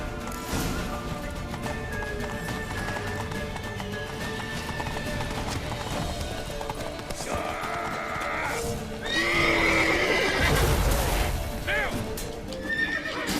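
A horse in the video game The Witcher 3 gallops with steady clip-clopping hooves and lets out a whinny, under game sound effects and shouting voices.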